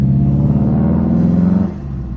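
A car engine fitted with a Grimspeed cold air intake and blow-off valve holds a steady, loud idle-to-rev drone, then drops abruptly to a lower rumble near the end.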